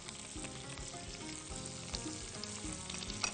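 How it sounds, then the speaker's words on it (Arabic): Chicken liver fries in a pan with a steady, soft sizzle and crackle, faint and continuous with no voices. "الكبده اتشوحت خلاص"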